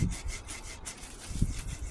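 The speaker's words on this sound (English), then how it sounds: "I'm going to use a backwards and forwards sawing motion using all of the teeth of the pruning saw" Pruning saw drawn backwards and forwards through a wooden branch outdoors, rasping strokes up close with a couple of heavier pushes, no voices.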